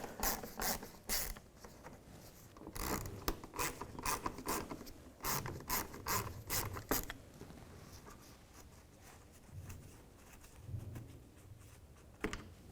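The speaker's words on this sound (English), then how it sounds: "So we're going to take these bolts out." Ratchet backing out T20 bolts from the splash shield by the radiator support of a 2001-2007 Volvo V70: bursts of close, rapid clicking that fade into quieter mechanical fiddling.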